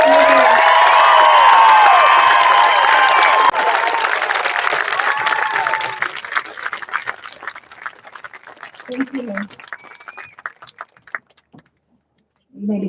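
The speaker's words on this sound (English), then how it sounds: "please join me in a round of applause to honor these students" A large audience at a high school graduation applauds and cheers loudly for the graduating students, with whoops over the clapping, which fades after about six seconds into scattered claps and murmured voices.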